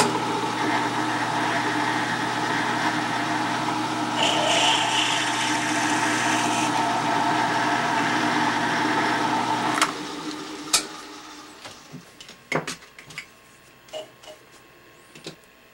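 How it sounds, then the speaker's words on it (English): A 7/32 tap drill bores through steel on a machining job, a loud continuous grinding whine for about ten seconds that stops abruptly, followed by scattered metallic clicks and knocks. "Now I'm going to drill through with a 7/32 tap drill."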